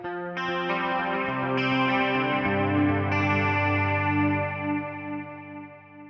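Sustained electric guitar chords through a Hotone Ampero Mini pedal ring out with a clean tone and shimmering, warbling chorus effect, changing a few times and slowly fading at the end.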